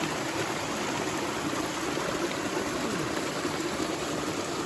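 A steady rush of flowing stream water, continuous and fairly close, with no voices.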